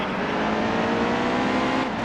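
Race car driving in the NASCAR Heat 2 video game on the original Roval layout, a loud steady engine drone that holds constant throughout with no talking.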